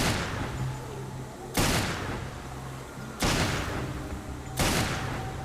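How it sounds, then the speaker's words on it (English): Three heavy magnum gunshots in Resident Evil Revelations, evenly spaced and loud, each a sharp boom with a lingering decay. "Shoot him with a magnum."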